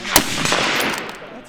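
A CZ 600 bolt-action rifle fires a single sharp shot near the start at a shooting range, with a loud crack followed by a brief ringing decay.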